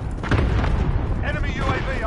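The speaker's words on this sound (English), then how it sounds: "Enemy cluster strike incoming!" An enemy cluster strike in Call of Duty: Modern Warfare, heard as a loud, rumbling run of overlapping explosions and booms with voices in the game over the blasts.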